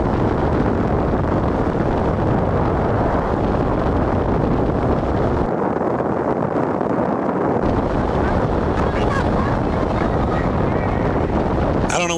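Loud, continuous roar of wind buffeting and droning aircraft engine noise during an in-flight emergency, steady throughout with brief dips in the low rumble.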